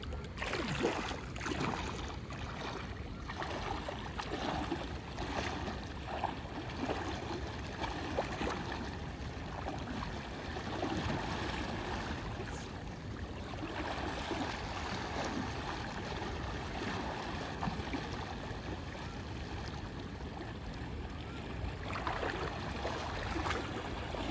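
Shallow water in the Saraswati River sloshes and splashes continuously as someone wades through it, a close, broadband wash of moving water.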